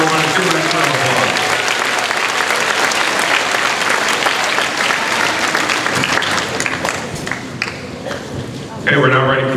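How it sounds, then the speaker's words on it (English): Loud, dense applause fills a school's 8th grade graduation and academic awards ceremony as 6th grade award winners are honoured, a steady crowd roar with voices mixed in that eases slightly near the end. "And once again, ladies and gentlemen, our 6th grade Super Center Award winners, give them a round of applause."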